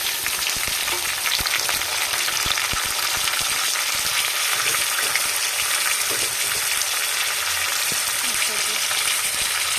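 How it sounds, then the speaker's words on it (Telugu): Chopped tomatoes go into a pan of frying onions while cooking tomato rice, producing a loud, continuous sizzle with faint stirring and scraping throughout. "ఆనియన్స్ కొంచెం కలర్ చేంజ్ అయ్యాక స్మాల్ పీసెస్గా కట్ చేసుకున్న 2 టమాటాస్ అందులో యాడ్ చేస్తున్నాను"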